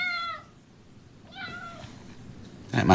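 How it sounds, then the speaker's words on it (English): A cat meows twice, distinct drawn-out cries separated by a quiet pause, fairly near and alone, with a brief rustling noise at the end, in the setting of a radio-style stage drama. "That must be the cat."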